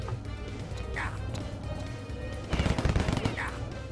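Gunfire rings out in the video game Nefarious, with a mix of shots and a denser burst of rapid firing near the end over a busy game soundtrack.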